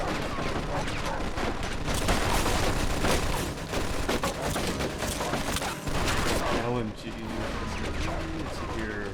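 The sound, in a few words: machine gun fire in Mafia 2 video game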